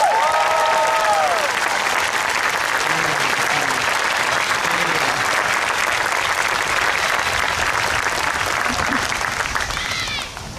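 Dense, steady crowd applause at a rally and march, loud and continuous with scattered cheers and whistles over it, fading slightly near the end.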